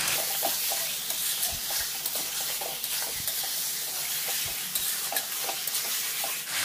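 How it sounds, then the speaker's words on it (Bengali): Marinated chicken mince frying with spices in a pan for khichuri, a steady close sizzle with frequent stirring scrapes and clicks throughout. "এরপর আমরা এই মশলার সঙ্গে যোগ করে দেব আমাদের সেই ম্যারিনেট করে রাখা কিমাটা। এই কিমাটাকে আমরা হালকা করে কষিয়ে নেব।"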